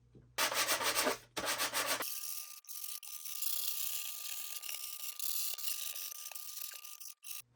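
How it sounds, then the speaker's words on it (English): Fine sandpaper rubs the edges of a plastic Stormtrooper costume back piece in quick, close scratchy strokes, starting in short bursts and then settling into a quieter, steadier rasp. "Grab yourself a little bit of fine sandpaper and go to town."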